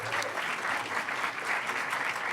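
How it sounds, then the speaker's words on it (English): An audience at a lightning talks event gives a round of applause, with dense, steady clapping that stays loud and even from start to finish. "And one last final round of applause for all the lightning talks."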